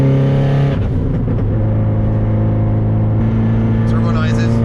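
A Subaru engine pulling hard under acceleration, a loud, steady droning roar with rising tones and a whooshing turbo character, heard up close from inside the car with a voice talking over it.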